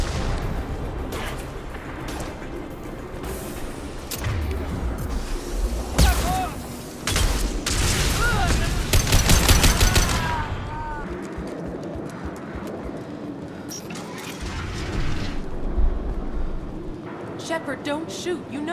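Gunfire crackles in the sci-fi shooter Mass Effect 2, scattered sharp shots and bursts around loud combat noise, with characters talking over parts of the fighting.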